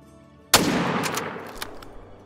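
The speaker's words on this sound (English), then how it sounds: "Yeah, we should be able to take that shot." A single loud rifle shot at a deer in the hunting video game Call of the Wild, a sharp crack followed by a long rolling echo that fades out.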